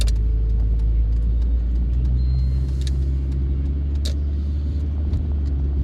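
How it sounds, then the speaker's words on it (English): A car that had stood unused for seven weeks drives along a road, its engine and tyre rumble steady and loud from inside, with no talking. "The car hasn't moved for 7 weeks, so it needs to have a little run."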